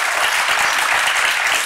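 Studio audience at an Armenian evening entertainment show clapping loudly and continuously, a dense brief burst of applause with no talk over it.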